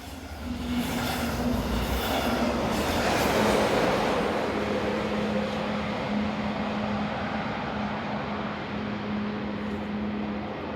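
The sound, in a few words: passing train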